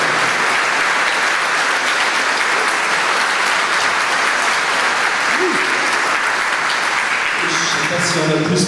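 Sustained, dense applause from an audience at the inauguration of the Saint-Gilles church, steady and loud throughout, with a few voices emerging near the end.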